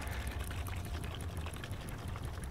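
Car wash concentrate being poured into a bottle of clean water for a rinseless wash, making a continuous close-up liquid pouring and gurgling sound, alone and fairly faint.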